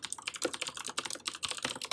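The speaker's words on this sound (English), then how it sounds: "excuse my keyboard being so loud" Rapid typing on a loud computer keyboard, with dense sharp clicking keystrokes in an uneven rhythm, close and clear with no talking.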